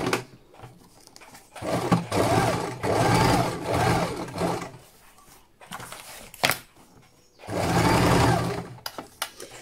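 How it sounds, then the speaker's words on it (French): A sewing machine stitches a circular seam around fabric for a charlotte-style dish cover, running in three sustained whirring bursts with short pauses between them, close by and without talk. "on fait une couture, donc c'est tout en cercle"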